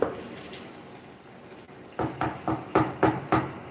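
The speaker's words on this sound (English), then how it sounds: "So you see me stirring." A spoon stirring sauce in a cooking pot gives a run of six or seven close, distinct scrapes and knocks in a steady rhythm, after a quiet stretch of faint room noise.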